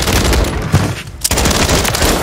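Rapid close gunfire in Call of Duty Warzone on Rebirth Island, dense loud automatic bursts broken by a short pause near the middle before the firing resumes.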